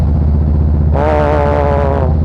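A Harley-Davidson Fat Boy Special fitted with a Supertrapp variable exhaust rumbles loudly and close up with a deep, pulsing idle, then its pitch swells sharply for about a second as the engine revs before settling back down.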